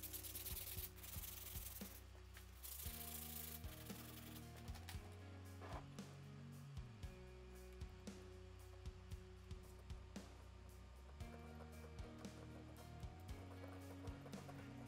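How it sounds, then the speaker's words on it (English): Steady, continuous abrasive rubbing of sandpaper on epoxy resin over a cement bowl, close and rhythmic, with soft scraping strokes and no talking. "sanding and also using a razor blade to scrape off the resin"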